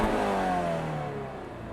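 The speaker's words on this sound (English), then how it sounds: "Well, here, actually, I'll rev it." A 2022 Toyota GR86 with a small engine revs up nearby and then lets the revs fall, the engine tone sliding down and fading over a second and a half, with no talking.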